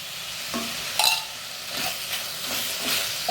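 Ghee added to vegetables cooking in a pot for a one-pot soya biryani, giving a moderate sizzle with scraping stirs and a few clinks of a spoon against the pot.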